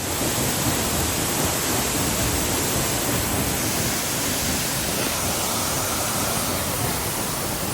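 Waterfall in Madeira, a steady broadband roar of falling water that stays loud and even throughout with no voices heard.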